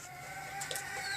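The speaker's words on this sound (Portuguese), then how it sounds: "Aqui tá o galo." A rooster in a backyard poultry flock gives a few short, close clucks over a brief stretch, with a faint bird chirp above.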